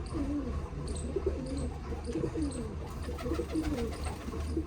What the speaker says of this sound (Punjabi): ਦੇਖ ਕਿਉਂ ਮਸਤ ਬੋਲਾ ਕਬੂਤਰ